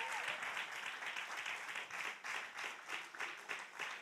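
A church congregation claps together in sustained, dense applause, steady and fairly loud throughout with slight swells, no voices standing out above it.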